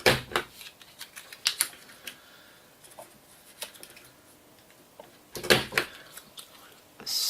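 A WRMK mini alphabet punch board cutting through card, giving a few crisp snips and clunks at the start and again near the end, close and fairly loud, with quieter handling rustles in between.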